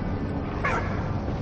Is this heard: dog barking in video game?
yes